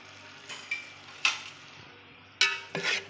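Spoon stirring soaked, part-cooked rice in a pot of boiling water for Hyderabadi dum biryani, heard as four short scraping, clinking bursts close by with quiet pauses between.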